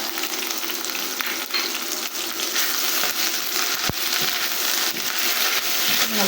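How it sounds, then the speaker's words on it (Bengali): Chicken frying with ginger and garlic paste and red and green capsicum for restaurant-style chili chicken, giving a steady loud sizzle throughout with scraping stirs over it. "এখন ভালো করে মিশিয়ে ভেজে নেব"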